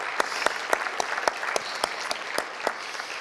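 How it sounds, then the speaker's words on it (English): An audience at a wrap-up session gives the presenters a short round of applause, with dense, close clapping and distinct individual claps standing out, for about three seconds. "one more round of applause if you would"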